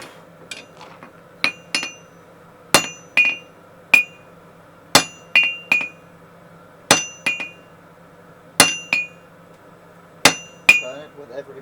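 A hammer forges a steel drift on an anvil, the workpiece turned between strikes. About fifteen sharp, ringing blows land close by at an uneven pace, some as quick doubles, with no voices.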